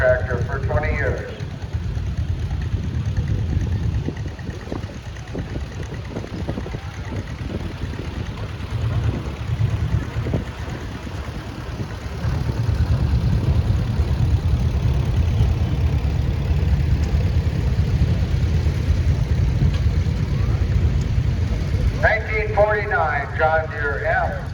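A 1937 Allis-Chalmers Model U tractor engine rumbles at a low, steady idle in an outdoor parade, running continuously under someone talking over a loudspeaker.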